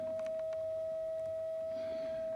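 An Erica Synths EDU DIY oscillator puts out a steady square wave: one continuous, unwavering mid-pitched tone held throughout at a low level over faint background noise.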